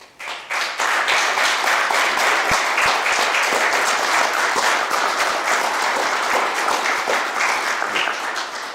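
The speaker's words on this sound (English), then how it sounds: "Thank you for your applause." Audience at a mayor's news conference breaking into sustained applause after a key-to-the-city presentation, loud, even clapping rising within the first second and holding steadily to the end.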